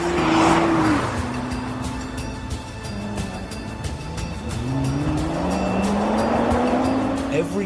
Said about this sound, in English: Every day and night, a team of 10 test drivers thrash 25 GTRs around this test track.